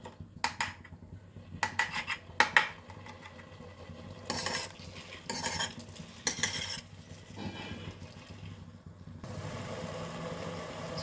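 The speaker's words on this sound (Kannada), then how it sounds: "ಬೆರೆಸ್ತಾ ಹಾಗೆ ಕೈ ಆಡ್ತಾ ಆಡ್ತಾ ಬೆರೆತೋಗುತ್ತದು, ಎಲ್ಲ ಕಡೆ ಬೆರೆಸಿಸ್ಬೇಕು" Cashews are stirred into a boiling pot with a spoon, which scrapes and clinks against the metal in irregular bursts, while a soft bubbling simmer fills the gaps.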